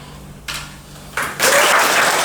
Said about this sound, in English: Will you please give a great round of applause to Mark?